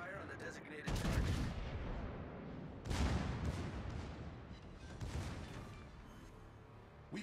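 Heavy naval artillery salvos from warships in World of Warships, three big booming volleys about two seconds apart, each with a loud broadband blast that rolls off into a long rumbling decay.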